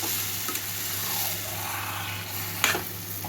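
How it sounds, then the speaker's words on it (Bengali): Chicken pieces stir-fried in a hot pan for a curry, a steady close sizzle with a few scraping stirs of the spoon, no talk. "এবার চিকেনটা আমি আস্তে আস্তে এসে কষে নেব।"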